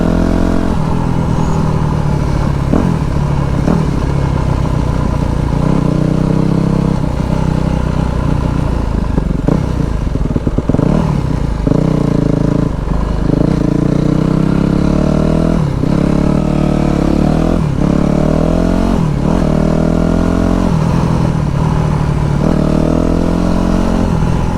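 A Yamaha YZF 250 dirt bike, running in a freshly fitted piston, revs hard through repeated throttle bursts while pulling wheelies. The engine is loud and close, its pitch rising and falling in rapid surges throughout.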